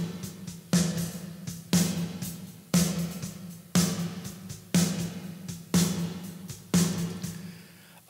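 Percussive hits treated with a Fuse Audio Labs EMT-140 plate reverb plugin, eight evenly spaced strikes each trailing a slightly metallic, decaying wash, moderately loud with no talking.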